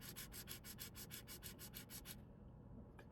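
Fine 2000-grit sandpaper scrubs quickly over a molded surface in fast, even back-and-forth strokes for about two seconds, close and quiet, then stops.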